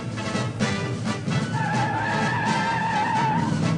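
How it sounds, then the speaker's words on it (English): An AMC Javelin with a 3-speed automatic and Goodyear E60 15 tires launches hard off the line, engine roaring and tires squealing into a sustained screech that builds over several seconds. "Our Javelin wasted no time coming off the line."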